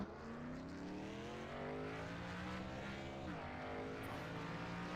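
Race car engines drone steadily with a rising and falling whine as cars head onto the oval track at Auto Club Speedway in the iRacing sim, faint and continuous.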